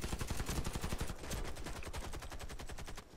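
Rapid automatic gunfire from the video game Warface rattles off in a steady, evenly spaced stream of close, loud shots that runs almost without a break.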